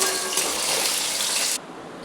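Bori lentil dumplings dropped into hot oil in a kadai, a loud close sizzling hiss that continues steadily, then cuts down abruptly to a softer sizzle.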